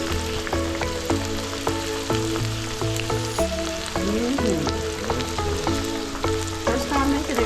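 Pork pieces frying in a pan for a Mongolian pork dish, a steady close sizzle with crackling spatters and occasional stirring clatter, no talking.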